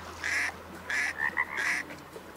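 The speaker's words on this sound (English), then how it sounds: "That's a good sounding duck call." A duck call is blown in the hunting game Way of the Hunter, giving three raspy, nasal bursts in an even rhythm, fairly close and clear over a quiet background hum.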